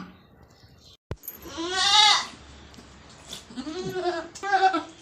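A goat on a farm, in the middle of kidding, lets out two or three drawn-out bleats close by, one loud and wavering, with a sharp knock before them and a quiet background.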